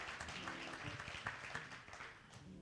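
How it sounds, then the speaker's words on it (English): Brief, faint audience applause for a band at a Green Valley's Got Talent show, a soft mass of clapping under a low tonal murmur that tapers slightly toward the end. "Let's give the band another round of applause."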